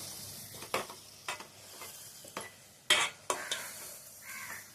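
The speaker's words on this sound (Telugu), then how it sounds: "ఇప్పుడైతే కుదుపుకోవాలండి ముక్కల్ని." Okra pieces already softened in oil being stirred in a pan: spaced, sharp utensil scrapes and knocks, close by, over a faint background sizzle, with no voices.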